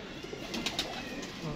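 Pigeons coo softly nearby as they settle onto a perch after being flown, a brief low cooing with faint wing rustle.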